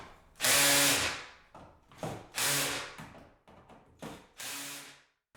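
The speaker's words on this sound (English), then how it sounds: "if you have a torque setting on your drill, go to the lowest setting and you won't over tighten" A power drill drives screws into a door hinge in three distinct bursts, each a loud whining whir that rises and trails off, separated by brief quieter clicks and handling sounds.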